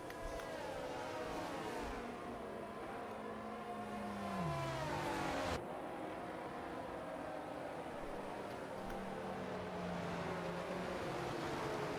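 Racing cars roar down the main straight in an F1 video game, a continuous engine drone with gear-shift pitch drops and a sharp cut in the middle, steady and fairly loud throughout.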